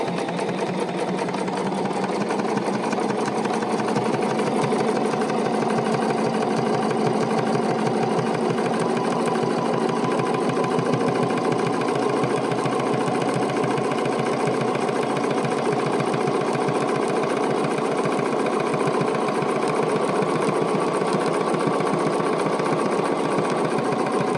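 A BERNINA sewing machine runs continuously, its needle stitching along a marked line with a fast, even mechanical whir and rapid clatter that holds steady and loud for the whole stretch, no talk over it.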